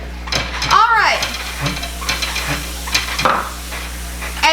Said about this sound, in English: Make sure you're whisking it between adding eggs